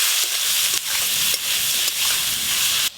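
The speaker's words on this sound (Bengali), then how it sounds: "আলু, লবণ, হলুদ গুঁড়ো, লঙ্কা গুঁড়ো সব একসাথে ভালো করে ভেজে নেব।" Sliced potatoes with salt, turmeric and chili powder fry in a pan, giving a dense, steady sizzle broken by a few brief dips as they are stirred, close and loud with no voices.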